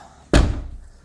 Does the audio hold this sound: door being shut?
yes